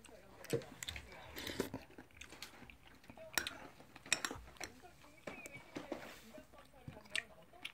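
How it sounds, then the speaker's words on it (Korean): Someone eats Pyongyang-style home dumpling soup up close, with spoons and bowls clinking, soft chewing and slurping, and quiet speech now and then. "만두 먹방입니다."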